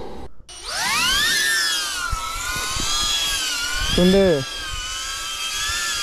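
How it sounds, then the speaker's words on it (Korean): A DJI Mini 3 Pro drone with a damaged, broken guard spins its propellers at close range with a loud, rough, whining buzz that rises at the start and holds steady, with brief speech over it. "프롭 소리가 조금 안 좋은데?"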